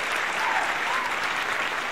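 Dense, steady applause from a show audience fills the whole moment at an even, fairly close level, with no voices over it.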